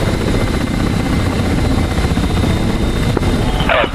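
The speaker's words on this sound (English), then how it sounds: "That's a helicopter, hello." A helicopter's rotor chops steadily and loudly in the DCS World flight simulator, a dense continuous engine and blade drone that stays close and unbroken, with no talking.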